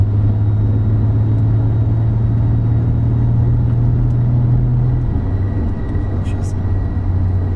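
An 820 hp Audi A3 4x4 with a 3.6 VR6 turbo and DSG gearbox accelerates gently in drive, giving a loud, steady low engine drone from inside the car that shifts slightly in pitch near the end.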